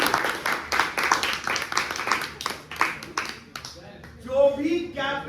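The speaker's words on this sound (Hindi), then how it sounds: "एक बार जोरदार तालियां।" Students clapping in a classroom during an accounting lecture, a run of loud, rhythmic claps in the first part that tapers off, followed by voices speaking.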